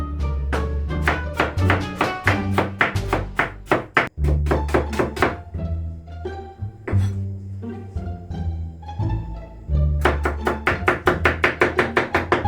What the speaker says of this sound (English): So we're going to chop this small diced, and we're going to mix it all together.